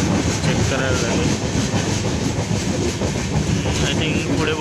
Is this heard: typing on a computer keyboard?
no